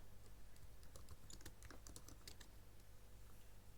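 Keys clack on a computer keyboard in quick, irregular bursts of taps, close but quiet, over a steady low electrical hum.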